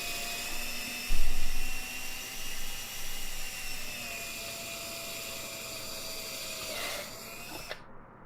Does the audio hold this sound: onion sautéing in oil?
no